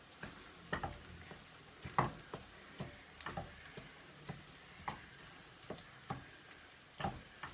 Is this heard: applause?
no